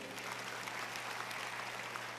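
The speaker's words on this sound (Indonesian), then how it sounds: "Boleh tepuk tangan buat Tuhan." Church congregation applauding during a sermon, a steady dense wash of clapping from many hands, even and sustained throughout with no speech over it.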